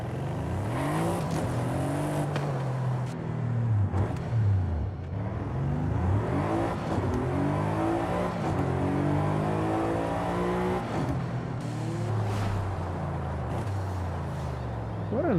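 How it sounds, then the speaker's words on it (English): Mercedes-AMG fitted with an aftermarket exhaust in the racing game Forza Horizon 5, its engine revving hard and rising through the gears in repeated sweeps, loud and steady and close, without becoming harsh. "That sounds like a proper AMG."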